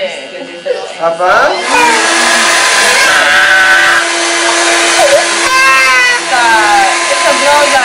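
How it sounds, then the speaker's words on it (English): A blow dryer used during a young boy's first haircut runs with a loud, steady rushing whoosh, while voices and a child's whining cries carry on over it throughout. "It's a blow dryer, Papa."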